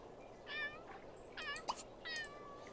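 Several cats in The Sims 2 video game meow in short, overlapping calls, one after another, fairly faint over a low background hiss.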